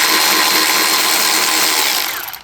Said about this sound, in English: Then we're going to use the Milwaukee to go the rest of the way.